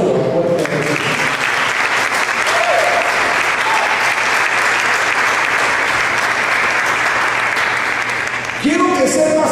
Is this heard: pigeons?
no